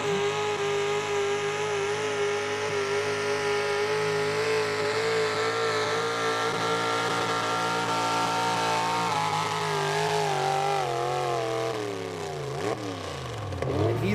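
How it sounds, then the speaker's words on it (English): A 1989 Dodge truck roars steadily at full throttle during a truck and tractor pull, its loud engine note holding for a long stretch before shifting and dropping in pitch near the end. "And next up's going to be another points puller here, Jim Matthews from Jones Mills, Pennsylvania, a 1989 Dodge he calls plumb crazy."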